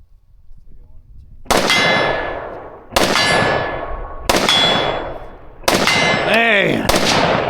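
Four sharp gunshot impacts ringing off a steel target at an outdoor range, each a loud metallic clang with a long decaying ring, spaced a second or so apart, with a brief voice or whistle-like tone during the last ring.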